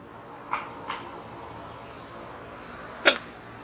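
A person sneezes indoors, several short sharp bursts with one louder sneeze near the end, over a quiet background hiss.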